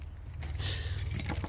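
A big bunch of keys for a 1988 Ford Tioga RV jangling steadily up close for about a second and a half, a continuous metallic clinking over a low engine-like hum.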